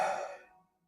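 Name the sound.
breathing sound imitating the pronunciation of the divine name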